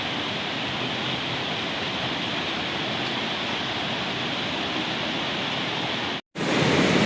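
Water gushes hard through Wawa Dam on a river between two mountains in Montalban, Rizal, a steady, dense roar that fills the whole stretch, broken only by a brief dropout near the end before it resumes.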